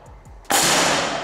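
A PCP air rifle, the Rahwana unit, is fired at a target: after a quiet moment a sudden, loud, harsh burst bursts in and continues as a noisy crash for nearly a second.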